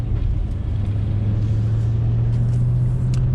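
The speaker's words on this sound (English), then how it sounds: "right at the very end of the RPM, it kind of like shoots a little burble" A 2013 Chevy Camaro ZL1 V8 engine holds at high revs against the rev limiter, a loud, steady, deep rumbling drone close by with a slight stutter near the end.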